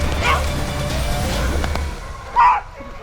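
Hunting dogs during a wild boar hunt give two short barks or yelps, one near the start and one near the end, over steady outdoor background noise.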